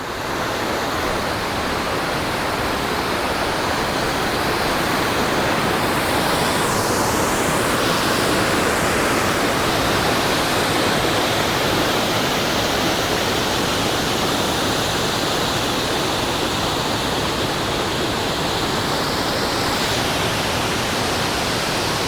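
A waterfall on a hiking trail near Lander, Wyoming rushes in a steady, loud, broadband roar that fills the whole span without a break, close and unvarying.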